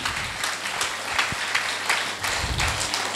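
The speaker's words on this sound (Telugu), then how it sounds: "ఒకసారి చప్పట్లతో మనం అభినందిద్దాం." An audience at a spiritual event in Vijayanagaram gives sustained applause, a dense wash of many hands clapping steadily at a moderate distance, with no speech over it.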